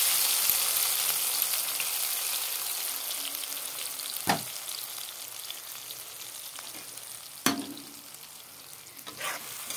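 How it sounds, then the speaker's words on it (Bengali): Ground spice paste from a mixer frying in oil in a pan with tempered whole spices while being stirred, a steady faint sizzle with a few sharp scraping clatters of the spatula, no talking. "মশলাগুলো কষিয়ে নিই"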